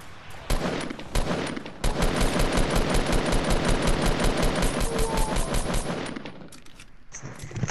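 Rapid automatic gunfire in the video game Fortnite, a long, loud, evenly spaced burst of shots after two single opening shots, then a brief pause and reload sounds.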